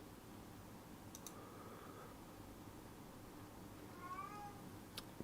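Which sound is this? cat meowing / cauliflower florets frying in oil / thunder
cat meowing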